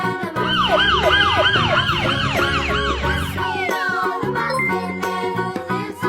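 A cartoon police car siren wails in a fast rising and falling loop, loud and bright, with tinkling jingles and music underneath, then fades into a tune.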